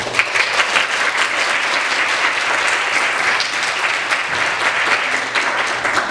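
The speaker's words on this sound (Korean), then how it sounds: "저희가 박수로 환영하겠습니다" A church congregation claps to welcome visitors at a Sunday service, a loud, dense, continuous applause filling the room for several seconds without any voices.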